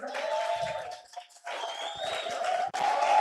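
A church congregation applauds a young man, sustained clapping and crowd noise filling the room, briefly dipping before swelling again.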